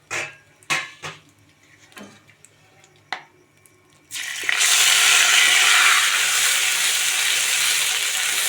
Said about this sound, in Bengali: এরপর আমি এর মধ্যে কড়াইশুঁটির পুরটাকে ঢেলে দেবো।